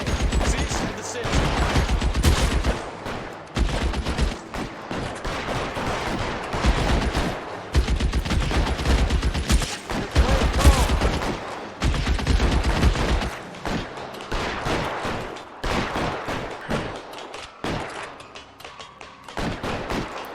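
Shootout gunfire in the game L.A. Noire: repeated loud bursts of rapid shots in clusters with brief pauses, heavy thumping impacts, thinning toward the end, with occasional voices.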